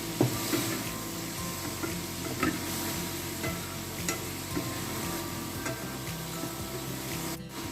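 Garlic and grated ginger sizzle steadily in a pan while a spatula stirs them, with soft scraping and crackling throughout.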